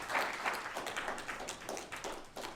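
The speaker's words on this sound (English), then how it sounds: "Clap for Ryan Jack," A press-conference audience claps for cruiserweight boxer Ryan Jack, a steady patter of many hands that stays fairly quiet and even.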